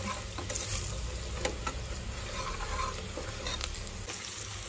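Steady sizzling of turmeric and coriander powder frying in hot oil, with occasional stirring clicks and scrapes, close and continuous.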